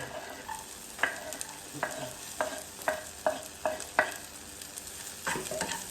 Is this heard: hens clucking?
no